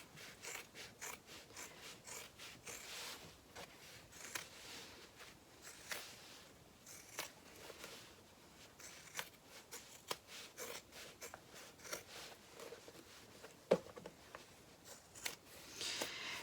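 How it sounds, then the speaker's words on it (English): Scissors trimming the fabric seam allowance on a sewn bag lining, giving repeated soft, crisp snips at close range with small clicking pivots, quiet and without talk. "I'm just going to trim my seam allowance."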